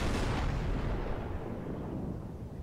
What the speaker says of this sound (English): he does have 2 battleships shooting at him